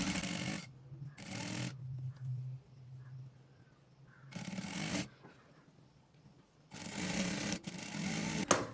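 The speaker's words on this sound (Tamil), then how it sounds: "அப்படியே ரெண்டு இன்ச்சில் ஃபுல்லாகவே நேராக தைக்கிறேன்" A sewing machine stitches a straight seam on a back-open saree blouse in several short bursts of fast whirring, each under a second or two long, separated by quiet pauses.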